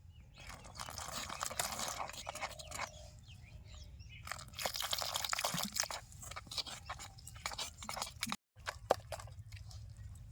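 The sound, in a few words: mixing thick cabbage fritter batter with water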